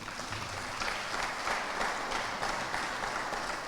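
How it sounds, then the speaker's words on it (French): Audience at the Croire En La Guadeloupe convention applauds loudly and steadily, a dense sustained wash of clapping that holds at an even level throughout without talk. "Je voudrais que tu applaudisses très très fort."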